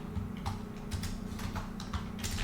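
A title is typed on a computer keyboard, giving a run of quick, irregular key clicks at close range with no speech.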